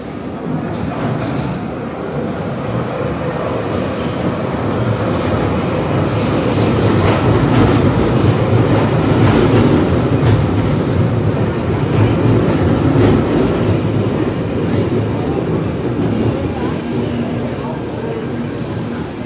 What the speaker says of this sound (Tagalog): Ayan po ang train dito.